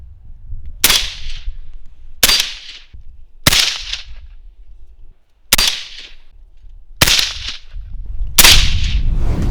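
Six sharp shots from a Kalashnikov rifle fitted with a Steel suppressor ring out one by one at fairly even intervals, each a crisp snap with a short fading tail, over quiet background.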